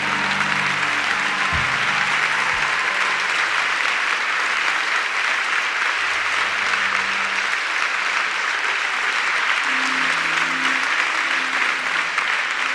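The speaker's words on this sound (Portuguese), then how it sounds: "Pode aplaudir o Senhor com força." Church congregation applauding the Lord at the end of a Catholic homily, a dense, loud and sustained roar of many hands clapping that holds steady throughout, with a low hum underneath and no speech.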